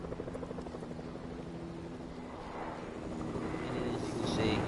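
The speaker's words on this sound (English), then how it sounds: "And then I hear the dag blasted helicopter." A video game helicopter's rhythmic rotor thump drones in the distance, growing slightly louder toward the end, while a voice talks over it.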